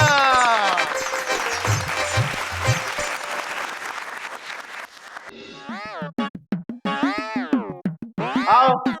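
Crowd applause fills the first half, then gives way to bouncy, cartoonish boing-like tones and squeaky effect sounds.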